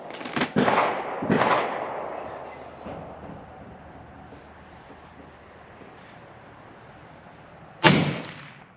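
A Geissele URGI rifle fires at 100 yards on a range. Two loud cracks come close together early, then a long gap filled with decaying echo before a final sharp shot rings out.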